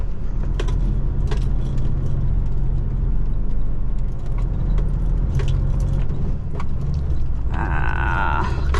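Lorry engine labouring steadily as it drives up a track, a loud continuous rumble with rattling and clanking throughout and a brief whine near the end.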